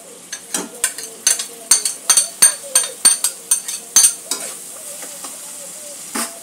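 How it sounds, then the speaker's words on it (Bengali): Spices, green chilli and garlic paste with black cumin being stirred in a pan: a close, rhythmic run of metal spoon scrapes and clinks over a light sizzle, with the scraping easing off near the end. "সব কিছু একটু ভালো করে মিক্স করে নেব।"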